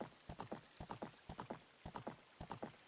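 Horse hooves clip-clopping in a steady trotting rhythm in Zelda: Ocarina of Time, with a faint whinny-like tone; fairly close and clear, no talk.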